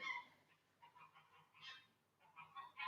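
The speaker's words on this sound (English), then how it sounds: "And that's my geese." Geese honk nearby in short irregular bursts, fairly faint with quiet gaps between calls, heard alone with no talking.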